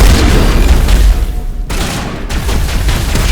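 Loud shotgun blasts boom in the Mass Effect video game, heavy and repeated in quick succession, with combat noise between the shots and no talking.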